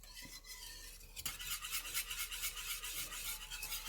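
Banana cream pie filling being whisked in a pot on the stove, a steady fast scraping and swishing that runs continuously and close by, growing busier after the first second.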